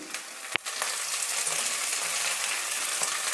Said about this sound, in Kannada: ಇದು ಈರುಳ್ಳಿ ಫ್ರೈ ಆಗ್ತಿದೆ